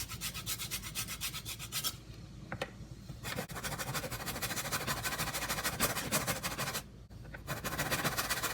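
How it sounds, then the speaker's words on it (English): Lemon skin grated by hand for a braided yeast loaf dough, a fast rhythmic rasping scrape repeating many times up close, with two brief pauses between runs of strokes. "we can add some salt and grate some lemon skin"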